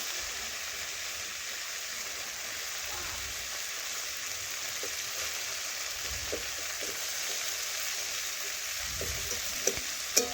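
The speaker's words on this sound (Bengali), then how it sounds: "এটাও ভালোভাবে ভেন্ডির সাথে নাড়াচাড়া করে মিশিয়ে নেব। দিয়ে আমি 10 থেকে 15 সেকেন্ড একটু নাড়াচাড়া করে ভেজে নেব।" Okra stirred and fried in a pan for a Kolkata-style vegetarian dish, giving a steady hissing sizzle throughout with a few soft spoon scrapes and light knocks toward the end, no voices.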